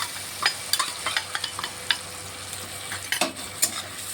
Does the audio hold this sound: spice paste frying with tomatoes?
yes